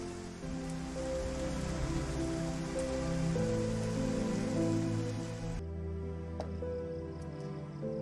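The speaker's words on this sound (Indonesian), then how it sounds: "sedang hujan deras" Heavy rain falls in a dense, steady hiss of drops on surfaces, loud and close, with no voices, and the wash drops away abruptly near the end.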